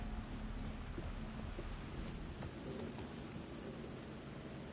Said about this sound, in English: It's raining. That's awesome. Never seen that in a game.